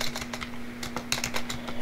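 Quick, light clicking of keys on a computer keyboard, an irregular run of taps close by with no talking.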